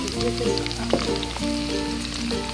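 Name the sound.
onions frying in pan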